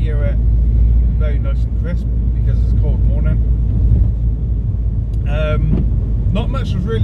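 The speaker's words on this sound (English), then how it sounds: "we shall drive it up the road up here, and you should hear it very nice and crisp because it's a cold morning." A car drives up a road on a cold morning, its engine a steady close rumble heard from inside while a person talks over it.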